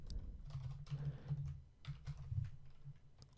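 Quiet, close typing of PHP code on a computer keyboard, with fast irregular clusters of soft key clicks and brief pauses, and no talking.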